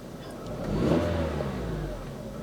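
A car engine revs up briefly from idle, climbing to a peak and then easing back down toward a steady idle, heard close and alone.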